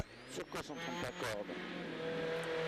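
Sébastien Loeb's rally car on a Monte-Carlo Rally stage, engine revving and shifting as it accelerates away, heard moderately loud with a commentator talking over it throughout.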